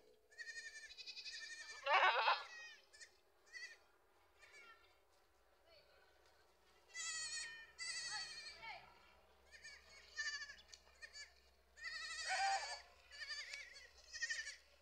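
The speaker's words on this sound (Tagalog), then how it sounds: "Ito, laking lalaking kambing." Goats bleat repeatedly in loud, wavering cries, several calls spaced across the stretch with quiet gaps between them.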